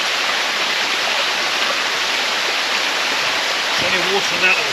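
Stream water rushing beneath a small footbridge after a heavy downpour, a loud, steady, close broadband roar with no break, and a brief faint voice near the end.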